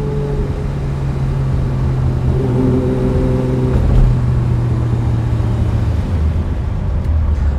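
A 1968 Ferrari 365 GT 2+2 with a V12 engine drones loudly while driving, its revs holding steady, then shifting pitch partway through before easing lower at the end.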